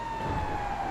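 A fire truck siren in the video game GTA 5 holds a steady, loud tone over engine rumble, continuous for the whole moment without talk.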